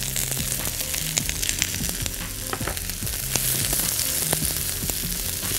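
Onion, garlic and carrot fry in a pan with a dense, continuous close sizzle, and brief knocks and scrapes from stirring are scattered throughout.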